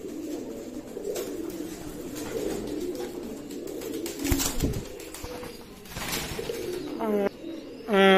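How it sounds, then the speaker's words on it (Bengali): Pakistani KTM Teddy pigeons give soft, low, continuous cooing that rumbles steadily throughout, close by, with faint chirps and a brief louder burst near the end. "মাশাআল্লাহ কবুতর।"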